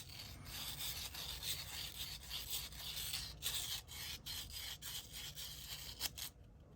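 Rhythmic rasping strokes of sandpaper rubbing against hard plastic, close and steady, each pass a short scratchy swish, stopping abruptly at the end.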